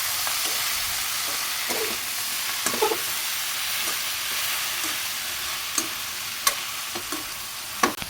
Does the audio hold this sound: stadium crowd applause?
no